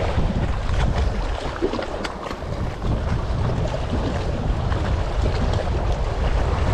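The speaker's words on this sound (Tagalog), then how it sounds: "Medyo mahangin." Strong wind buffets the microphone at a coastal fishing spot, a loud, constant rumble with surf and water movement beneath it and no talking.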